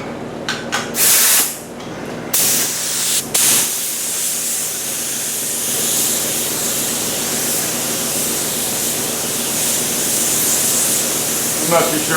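A spray gun lays a coat of paint with a steady, loud hiss that runs nearly the whole time, preceded by a few short bursts and gaps.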